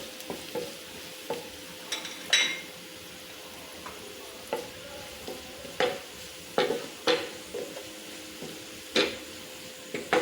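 Cumin and fenugreek seeds frying in a pan for curry pakora, a quiet steady sizzle broken by scattered sharp pops and light clinks of a stirring utensil against the pan.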